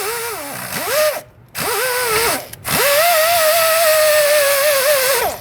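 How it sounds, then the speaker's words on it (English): Whirring power tool with a cleaning disc spinning inside a ball joint bore on a 1994-2004 Ford Mustang, rising and falling in pitch over short passes, then one long steady high whine, loud and close. "Now we're gonna use a little cleaning disc here, but we don't wanna take any metal away from the inside."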